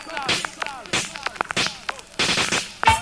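Gunshot sound effects fired in quick sharp bursts at a 1999 Jamaican sound system clash in Spanish Town, crackling over loud music and shouted toasting from the selector.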